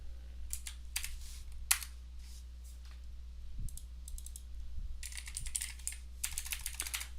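Steady typing on a computer keyboard, bursts of quick clicking keystrokes at close range with short pauses between runs, no voices.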